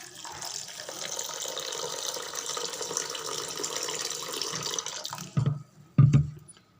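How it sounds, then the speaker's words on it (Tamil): Water pours steadily into a vessel of soaked urad dal and raw rice, a continuous gushing splash that stops abruptly, followed by a couple of short pours. "தண்ணி சேர்த்துக்கலாம்."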